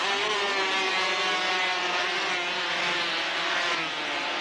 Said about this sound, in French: Un départ de moto, c'est quelque chose d'incroyable.